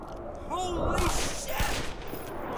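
Rapid bursts of gunfire crackle through a firefight in the Black Mesa video game, dense overlapping shots that build and swell, with a voice speaking over the shooting.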